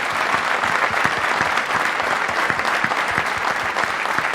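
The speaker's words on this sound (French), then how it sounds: "On peut les applaudir." Outdoor crowd in a village square applauding during a municipal speech, a dense, loud, continuous wash of many clapping hands lasting several seconds without a break.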